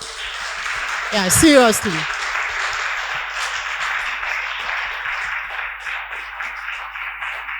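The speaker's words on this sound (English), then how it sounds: "I think you should clap for yourselves." A leadership class claps for itself in a steady, sustained round of applause, with a brief spoken remark near the start rising over the clapping.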